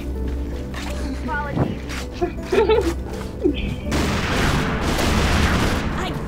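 Pistol or BB gun shots in a video game, a few sharp cracks and bursts in the first half, then a denser roar of firing under the talk of someone speaking throughout.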